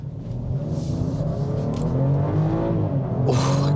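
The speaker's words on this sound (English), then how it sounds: "I never get tired of listening to that engine. It's just so smooth. It loves to rev." A 2024 BMW X5 xDrive40i SUV engine revs up and down repeatedly, its pitch rising and falling in smooth sweeps, loud and close with a steady rumble underneath.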